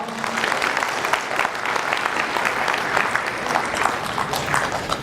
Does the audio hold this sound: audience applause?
yes